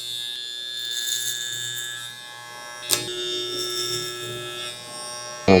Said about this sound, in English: Closing my clipper, this is 0.